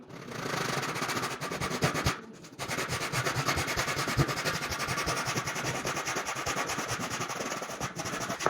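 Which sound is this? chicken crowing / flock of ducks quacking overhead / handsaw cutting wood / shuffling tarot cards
handsaw cutting wood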